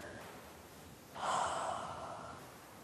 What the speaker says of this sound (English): inhale, exhale.